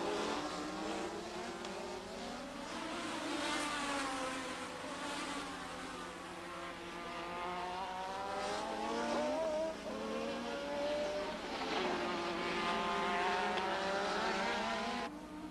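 Formula 1 cars from the 1987 season race past, their high-pitched engines screaming and sweeping up and down in pitch as several cars pass in a line. The roar is loud and continuous and nobody speaks.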